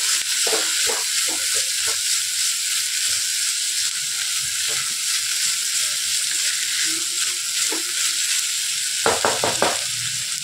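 Mixed vegetables for a kurma sautéing in a pan give a steady, close hiss and sizzle with a few stirring scrapes and knocks, strongest near the end.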